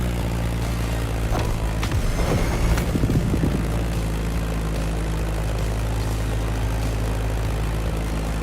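A Beechcraft Staggerwing propeller plane in The Crew Motorfest drones steadily with a loud, low engine hum that swells briefly and then holds level.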